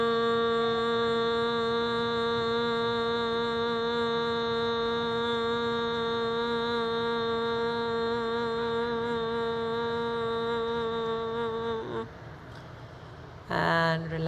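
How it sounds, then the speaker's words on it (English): A group hums together on the out-breath during a breathing exercise at a Times Square solstice gathering, one steady, rich drone held for about twelve seconds before fading out, followed by a brief rustle. "And we can begin the humming as we breathe out."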